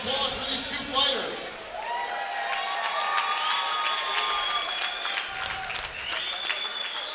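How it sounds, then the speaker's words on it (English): Crowd applause and cheering at a Chosen Few Fighting Championships 25 mixed martial arts event, sustained and loud throughout, with shouts rising above the clapping and an announcer's voice over the top. "a big round of applause for these 2 fighters"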